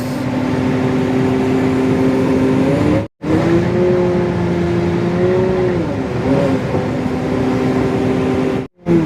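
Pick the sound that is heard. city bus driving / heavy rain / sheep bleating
city bus driving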